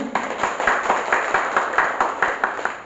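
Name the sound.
audience applause at event opening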